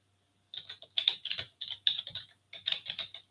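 Quick bursts of typing on a computer keyboard, crisp close clicks in short irregular runs separated by brief pauses, with no voices over it.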